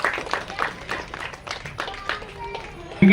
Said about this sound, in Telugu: ఇప్పుడు కొట్టాలి చప్పట్లు ఇక.